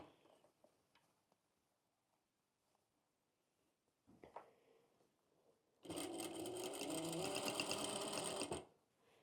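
Quiet handling and faint rustles lead into a sewing machine stitching a seam, a loud, rapid, even run of stitches lasting about three seconds before stopping.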